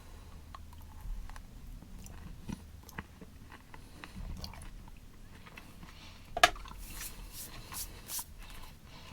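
Quiet chewing and biting on a Mars bar, an almond nougat with caramel and a thick chocolate coating, heard close up with soft irregular crunches and one sharper bite midway.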